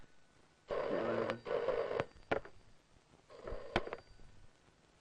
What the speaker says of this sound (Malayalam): ആരാണ് ഈ പാതിരാക്ക് ഫോൺ ചെയ്ത് ഡിസ്റ്റർബ് ചെയ്യുന്നത്?